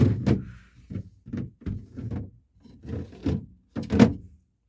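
A large drawer of a deep freezer being pushed back into place, heard as a series of close plastic knocks, slides and thunks in an irregular rhythm, ending with a firmer bump.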